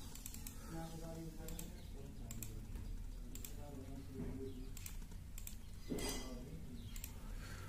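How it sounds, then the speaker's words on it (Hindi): A password is typed on a computer keyboard while resetting a Hikvision DVR, producing a quiet, irregular run of close keystroke clicks over a faint background hiss. "तो मैं यहाँ पर पासवर्ड एक बार डाल लेता हूँ।"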